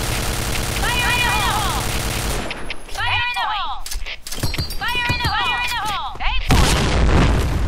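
Bomb explosions in a video game, booming bursts mixed with rapid gunfire and shattering debris, loud and dense, with sharp repeated impacts and chirping game effects throughout.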